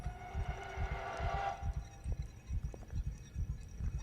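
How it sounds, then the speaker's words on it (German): Steady game heartbeat in Call of Cthulhu, a regular low double-thump pulse looping throughout, with a brief tonal hum over the first second and a half and no talking. "Irgendwas ist hörbar, außer mein Herzschlag."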